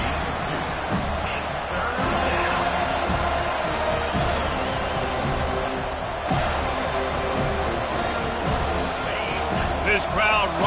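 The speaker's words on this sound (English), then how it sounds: "This crowd rising up, sensing that its defense needs some help." A football stadium crowd roars steadily and loudly throughout, a dense broadband swell that rises slightly, with play-by-play commentary talking over it.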